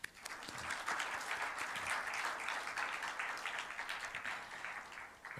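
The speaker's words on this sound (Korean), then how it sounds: "축하의 박수를 한번." Congratulatory applause from a church congregation at a Sunday young adults' worship service, a steady, dense round of clapping that fills the whole stretch without fading, with no talking over it.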